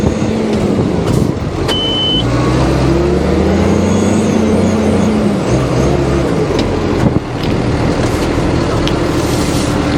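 A JCB Fastrac tractor's engine labours and revs loudly in a potato field, a steady heavy rumble with rising and falling tones as it strains without traction, plus a brief beep.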